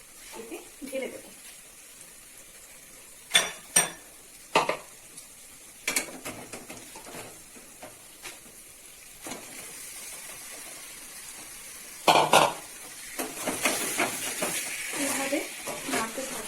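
Marinated chicken is stirred in a pan with spices, heard as quiet intermittent scrapes and clanks of a spoon against metal, with a soft sizzle rising near the end.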